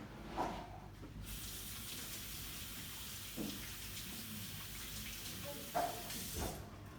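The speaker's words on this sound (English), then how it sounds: "So quickly wash my hand" A kitchen tap runs steadily for a hand wash during cooking, a continuous close hiss of flowing water with a few soft splashes and clunks as hands move under the stream.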